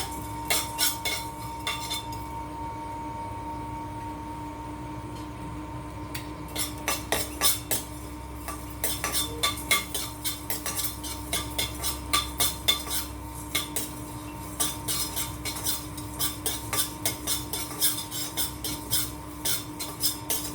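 Coriander seeds dry roasting in a pan, with a spoon clinking and scraping against the metal in quick irregular bursts, close and fairly clear, sparse at first and then almost continuous over a faint background hum.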